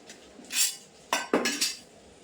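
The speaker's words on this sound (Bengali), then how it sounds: "এখন কিন্তু এই মাছটা কেটে নেবো" A knife cuts a whole pangas fish, giving a few sharp metallic clicks and scrapes: a soft scrape near the start, then two close, crisp knocks followed by quicker scraping strokes, all near and without talk.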